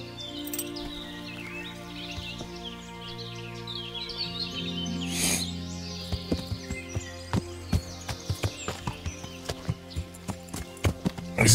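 Horse hooves clip-clopping in the video game Kingdom Come: Deliverance, a steady rhythmic series of sharp knocks growing louder and closer toward the end, with birdsong chirping in the background and no talking.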